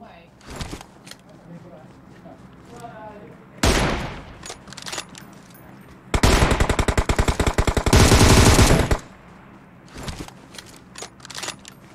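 Bursts of rapid automatic gunfire from an M762 rifle in PUBG Mobile, loud and close, with single shots scattered between them and quieter gaps.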